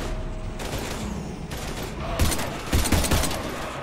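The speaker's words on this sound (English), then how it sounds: "we're taking heavy fire" Rapid gunfire from a Mass Effect 3 firefight against husks, bursts of shots crackling loud and close, with heavier volleys swelling toward the end over constant battle noise.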